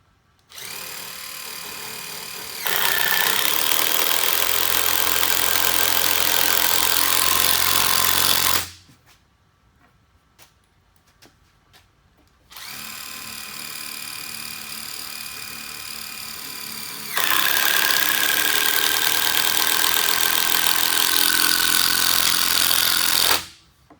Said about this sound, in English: next we're going to put a couple of screws in each side of the newel post.